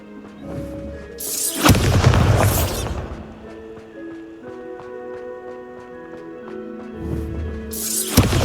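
The Bombarda blasting spell in Hogwarts Legacy going off as a loud, close boom lasting over a second, with another blast starting at the very end over a quiet musical backdrop.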